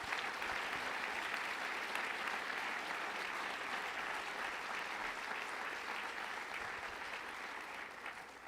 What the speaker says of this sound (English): So I would give one round of applause for all of our scholarship winners tonight.